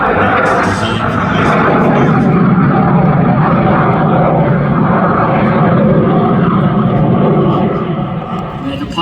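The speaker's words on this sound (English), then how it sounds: "And he's airborne. He's airborne. There we are. Very short takeoff run." A fixed-wing propeller aircraft at the Midlands Air Festival air display roars through a very short takeoff run, its engine droning loud and steady throughout, while a commentator talks over it.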